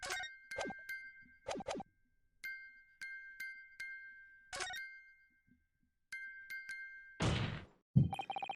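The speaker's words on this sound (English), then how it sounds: "Just because this is a music box, it doesn't necessarily mean the sounds we're hearing are music." A music box in The Great Ace Attorney Chronicles plays sparse, bright tinkling chimes with a sustained ringing tone between them, punctuated by a few soft thuds and a louder noisy burst near the end.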